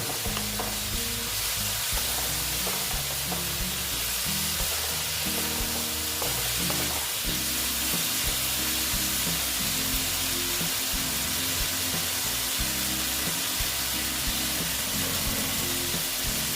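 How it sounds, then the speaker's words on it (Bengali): Spice paste being sautéed with water in a pan for a banana flower dish, a loud continuous sizzle with rhythmic stirring scrapes throughout. "সেই জন্য জল দিয়ে এবার আমি মশলাটাকে ভালো মতন কষিয়ে নেব"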